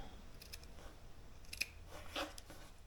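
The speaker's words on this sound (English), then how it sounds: "you're going to take your scissors and you're going to cut this little bit to this first one" Scissors snip fabric for a prairie point quilt block: two or three crisp, close cuts over soft room background, with no talking.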